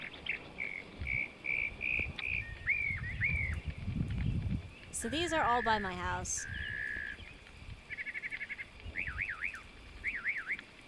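A northern mockingbird sings a varied run of repeated phrases: chirps, trills and a wailing car-alarm-like siren imitation. Someone speaks briefly partway through.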